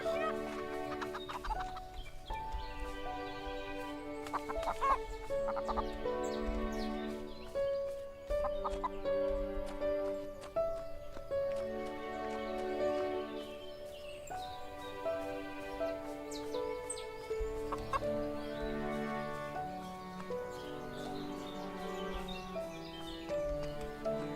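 A chicken in the farming video game Everdream Valley clucks in scattered bursts over steady melodic background music.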